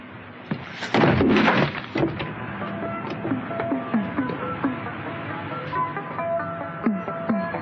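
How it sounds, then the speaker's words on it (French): A door being forced open in an apartment, with a loud heavy burst of thuds and banging near the start, then scattered knocks, clicks and rattles continuing at a lower level. "Je vais enfoncer la porte."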